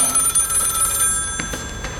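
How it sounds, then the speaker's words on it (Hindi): A telephone bell rings indoors in a rapid trilling burst that cuts off partway, followed by faint handling noise. "लो, फोन भी आ गया।"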